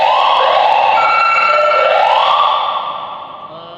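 A retired LAPD police car's siren wails loud and close with rising and falling sweeps, then fades a little toward the end.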